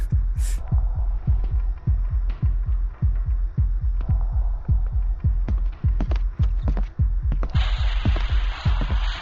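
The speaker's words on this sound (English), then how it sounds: "Well, that's just my heartbeat." A steady video-game heartbeat throbs in a regular, loud, deep double-pulse rhythm throughout, with faint clicks on top and a brief hiss near the end.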